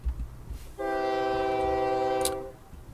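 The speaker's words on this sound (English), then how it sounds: "We've got those 2 trains doing livestock, so let's get them started." Livestock trains starting up in OpenTTD, a railway simulation game, sound a long sustained horn blast lasting over a second, loud and clear over faint rolling rail noise.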